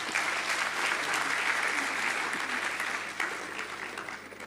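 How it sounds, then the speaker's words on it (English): Audience applause fills a convocation ceremony hall at an institute of management for the full stretch, a dense, steady clatter of many hands that eases slightly toward the end. "Please give her a round of applause."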